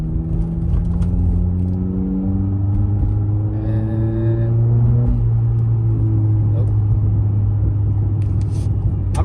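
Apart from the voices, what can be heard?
Honda Accord with muffler and resonator delete driving, drone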